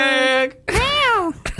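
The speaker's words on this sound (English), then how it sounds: "that's my cat." A pet cat in a podcast studio lets out a clear meow, followed by a longer rising-and-falling meow, with brief voice sounds around them.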